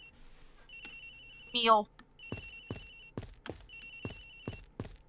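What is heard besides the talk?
phone ringing in video game Ace Attorney Investigations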